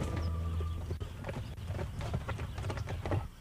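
Horses clip-clopping at a horse racing track in Arizona, a run of hoofbeats thudding at a moderate distance over a low ambient hum.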